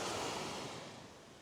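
Ocean surf rolls onto a beach at Khanom, Thailand, a steady broad wash of wave noise with a little wind, heard alone and fading slightly.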